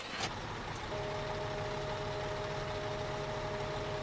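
A truck crane's engine idles in Construction Simulator 2015, a steady mid-low drone with a faint constant whine, preceded by a brief click at the start.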